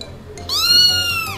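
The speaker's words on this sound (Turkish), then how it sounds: "Dışarıdan kedi mi getirdin?" A cat meows loudly and close by in a long, bright, drawn-out cry that rises and then slowly falls, heard indoors after a brief quiet with faint background noise.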